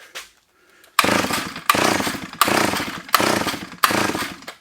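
A 45-year-old Solo 660 AV chainsaw, running with a suspected fuel problem and the throttle slightly open, bursts into loud repeated revs in five surging pulses after a quiet start.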